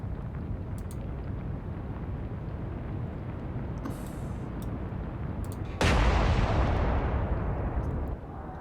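Naval gun salvo in a World War II sea battle game, heard as a sudden heavy boom that rolls into a long roaring decay over a steady wind-like background, with a few faint clicks beforehand.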